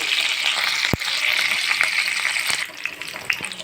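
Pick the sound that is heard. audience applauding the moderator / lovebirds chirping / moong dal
moong dal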